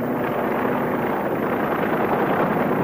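A 1952 military helicopter carries re-entry parties from the ship Rendova after a hydrogen bomb test, its engine and rotor a loud, steady broadband roar with no voices over it.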